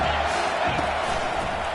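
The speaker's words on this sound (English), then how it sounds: "This crowd bringing the energy and noise early." A college football stadium crowd roars as a steady, dense wall of noise, with cheering and shouting blending into a continuous loud din at the same level throughout.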